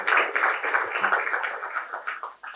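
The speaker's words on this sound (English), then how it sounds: "nice round of applause." An audience gives brief applause after a talk at IIT Madras, a short spread of clapping that fades toward the end.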